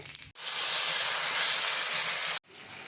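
Cumin seeds dropped into hot oil burst into a loud, bright hiss that holds steady for about two seconds and then cuts off abruptly, close up with no talking.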